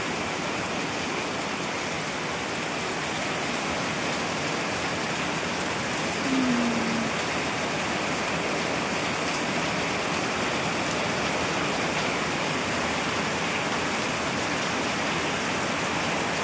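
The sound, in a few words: heavy rain from typhoon Dante in Laguna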